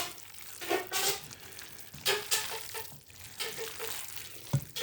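Hands squish and knead a raw venison meat loaf mixture, quiet wet squelching pulses that come in irregular bursts close up.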